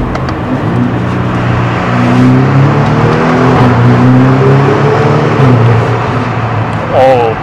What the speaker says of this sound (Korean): 배기음이 은근 잘 들리네요.